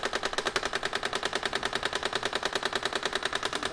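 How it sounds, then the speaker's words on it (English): A grenade launcher fires in the GunCart arcade light-gun game with unlimited ammo, a fast, even stream of sharp repeated bursts that carries on without a break. "either of the other buttons here will shoot these grenades"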